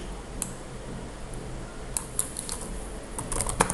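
Typing on a computer keyboard while writing Kotlin code, with faint, sparse key clicks that turn into a quicker cluster of taps near the end, over a quiet room background.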